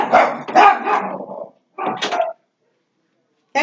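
Several dogs bark in short bursts close by, with a pause and then another burst near the end, amid a household scene where people are present.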